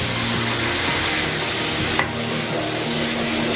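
Dal being stirred and sautéed in a pan over a clay stove, with a steady continuous sizzle and scraping of the spoon, close and fairly loud throughout.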